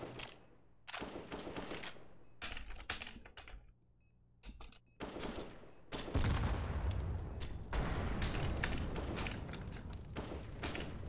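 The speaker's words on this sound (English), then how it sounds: "he's shooting through the smoke" Gunfire in a Counter-Strike match on FACEIT, bursts of rapid shots and sharp clicks, then a sustained dense volley through smoke that stays loud to the end, close and without talking.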